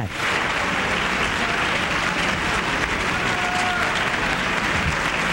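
Audience applause at the TVyNovelas awards ceremony, a dense, steady roar of clapping from a large crowd that holds at full strength throughout.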